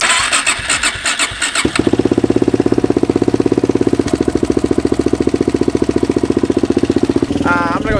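A quad ATV's engine turns over with choke on, rattles briefly, then catches and settles into a loud, even, rapid idle close by, with a short rev near the end.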